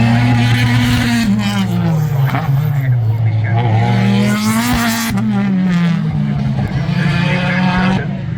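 BMW touring race car lapping Knockhill during a BTCC race weekend, a loud, continuous engine roar that rises and falls with the gear changes, with commentary talk running over it.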